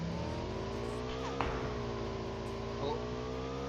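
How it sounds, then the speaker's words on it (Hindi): Motorbike engine in the mobile battle-royale game PUBG Mobile, a steady droning rev with layered engine harmonics, loud and continuous, with brief shifts in pitch as the bike accelerates and turns. "यही बाइक उठा के मैं धैड़ पैड़ फ्लेयर लूटने की ओर जाता हूँ"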